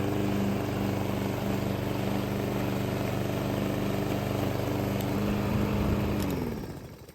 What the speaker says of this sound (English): Let's go, little lawnmower.